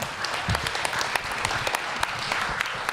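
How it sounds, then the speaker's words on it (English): Audience applause for a panel at an indoor talk event: a steady, dense patter of many hands clapping at moderate volume for about three seconds, with no talk over it. "Thank our panel with applause"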